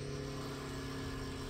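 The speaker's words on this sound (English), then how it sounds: "The compensating motor's running, it's turning the torsion bars, and it drops it back down to the appropriate height" Packard Torsion-Level suspension compensating motor running steadily as it turns the torsion bars to lower the car, a continuous low mechanical hum with faint whine, close and constant throughout.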